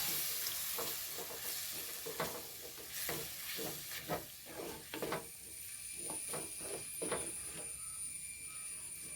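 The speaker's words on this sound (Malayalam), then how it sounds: "ഇനി ഇതിലേക്ക് പുളിവെള്ളമാണ് ഒഴിച്ചു കൊടുക്കുന്നത്" Tamarind water going into a frying masala for a prawn curry in coconut milk, a soft sizzle with bursts of hiss and scraping stirs at irregular intervals.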